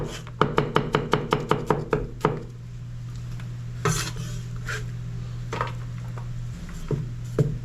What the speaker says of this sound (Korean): 양파는 반개 채 썰어주고